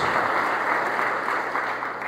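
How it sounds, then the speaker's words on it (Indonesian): A church congregation breaks into applause, a steady, full wash of clapping from many hands that stays even for a couple of seconds. "Beri dulu tepuk tangan yang terbaik buat Tuhan Yesus Kristus"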